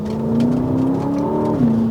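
A 2023 Aston Martin DBX exhaust drones steadily from inside the cabin, a smooth low engine note that rises slightly and then settles, with no talk over it.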